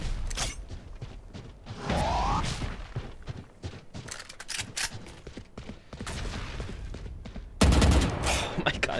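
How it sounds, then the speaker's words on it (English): Gunfire in Valorant, with bursts of shots and mechanical clicks mixed with game sounds, heard under players talking throughout. "you guys gotta stop shooting"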